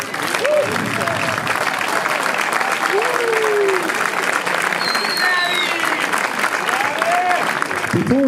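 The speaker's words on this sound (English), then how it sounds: "A big applause to our youth team." Sustained applause from a crowd at a sailing prize-giving ceremony, honouring the youth team winners of the Windsport Challenge Youth Trophy; steady dense clapping throughout with voices and whistles mixed in.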